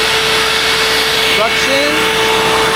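A Hoover WindTunnel self-propelled upright vacuum cleaner runs with a loud, constant whine close by, while a brief pitch-sliding squeak passes over the steady roar.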